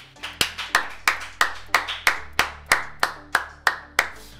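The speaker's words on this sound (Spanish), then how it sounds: "pido un aplauso, por favor, para este capo" A steady round of hand claps, about a dozen sharp, evenly spaced slaps, close and fairly loud with no voices.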